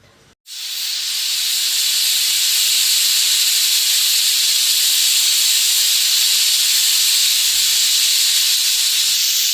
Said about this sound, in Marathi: तर कुकरच्या शिट्या होतात.